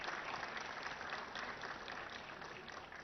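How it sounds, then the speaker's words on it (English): Applause from an audience filling a hall at a bank-tower event, a steady dense wash of clapping that holds evenly throughout without breaks. "deserve a huge round of applause"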